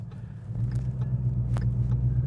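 A deep, steady 2015-2017 Mustang GT exhaust with an MRT axle-back system rumbles at idle, low and smooth without rasp, holding a constant throaty tone close by.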